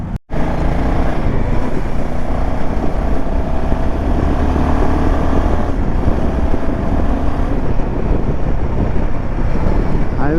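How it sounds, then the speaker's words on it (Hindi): Wind noise while riding a Royal Enfield Himalayan 450 motorcycle on a highway around 70 with a touring windscreen fitted, a loud continuous rushing buffet over engine drone, steady throughout after a brief dropout at the start. "विंड नॉइज़ काफ़ी हद तक दब गया है"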